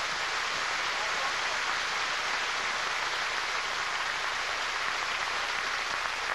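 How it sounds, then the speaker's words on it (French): A studio audience claps for a guest on a French-language variety show, a dense, steady wash of applause holding evenly throughout with no pauses. "Écoutez, je pense qu'on devrait l'applaudir"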